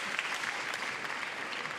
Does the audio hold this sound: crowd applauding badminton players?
yes